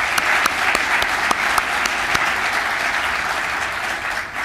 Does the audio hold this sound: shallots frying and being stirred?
no